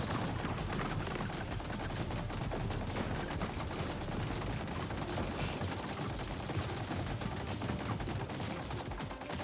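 Dense, continuous turret gunfire in the video game TerraTech Legion, a steady rattling fusillade of rapid automatic shots that stays loud and unbroken throughout, with no talking.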